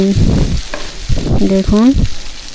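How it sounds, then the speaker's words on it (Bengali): Onion frying with ginger and garlic in a pan, a steady close sizzle broken by stirring, with tonal humming sounds rising over it at times. "এখন পেঁয়াজটা ভাজবো আদা রসুনের সাথে একটু ভেজে"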